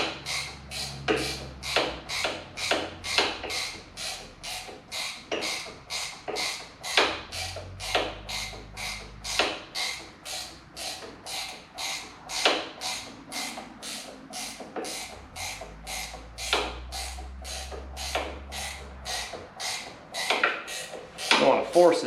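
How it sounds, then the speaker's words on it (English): Ratchet wrench clicking on a 1979 Harley-Davidson Low Rider Shovelhead 80" motorcycle, a fast steady run of sharp close clicks through most of the span, with low mechanical rumble beneath. "The old ratchet wrench will give it a go here."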